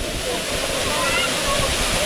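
Water rushes across a road in a constant, loud broadband wash like a small waterfall, filling the whole stretch with voices faintly mixed in.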